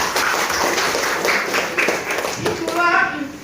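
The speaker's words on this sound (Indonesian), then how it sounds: "Nah, tepuk tangan semuanya." Group of people clapping together in a classroom, a brief burst of applause mixed with children's voices and a teacher speaking over it.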